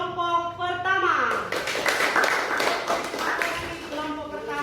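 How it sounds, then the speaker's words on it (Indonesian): A classroom of students claps for the first group after their presentation, a burst of scattered hand claps rising in the middle between stretches of talking voices before and after. "Oke, tepuk tangan untuk kelompok pertama."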